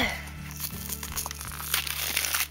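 A plastic blister pack of Pokémon cards being worked open by hand, producing close crinkling and crackling plastic over a steady low background hum.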